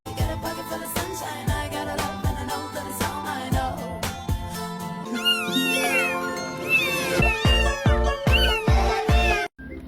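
A cat meows repeatedly, with several clear, close, rising and falling cries in the second half, mixed with music and thumping beats, with no talking.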